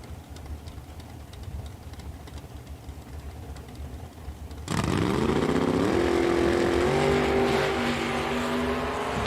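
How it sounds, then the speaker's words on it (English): Drag race at Eddyville Raceway Park between a 1968 Pontiac Firebird and a 1981 Chevy Camaro: low ambient rumble, then engines suddenly roar loud and close at launch, holding steady high revs with a rising pitch through the run. "The 68 Pontiac Firebird taking on the 81 Chevy Camaro."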